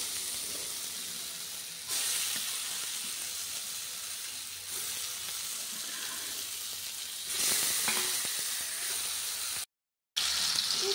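Fish laid into a pan of fried-down spice paste hisses with a loud, steady sizzle that swells a couple of times, broken by a brief dropout near the end.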